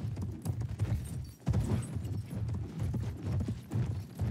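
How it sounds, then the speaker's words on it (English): Rapid, steady clip-clopping of a galloping horse's hooves in a Battlefield 1 multiplayer match, a close, rumbling rhythmic beat that barely pauses, with no talk over it. "So he did get on the back on the horse."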